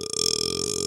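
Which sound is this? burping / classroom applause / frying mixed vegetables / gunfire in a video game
burping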